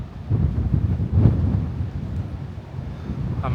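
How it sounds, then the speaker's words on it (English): Strong wind at the top of the San Giorgio Maggiore bell tower in Venice, a low, gusty rumble buffeting the microphone in uneven surges, loud and close, with no speech. "it's really windy, so I'm hoping the wind protectors I'll put on here work"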